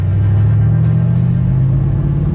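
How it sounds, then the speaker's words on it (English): A 1955 car fitted with new, quieter mufflers replacing cherry bombs, its engine and exhaust giving a steady, close, low rumble that holds even throughout without talk. "The new mufflers are quite a bit quieter than the cherry bombs that we did have on it."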